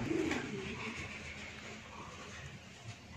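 Soft cooing of a male racing pigeon, low and repeated, heard over a steady background hum, with faint outdoor noise around it.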